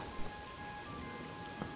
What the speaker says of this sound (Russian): дождик идет, погодка, конечно, так себе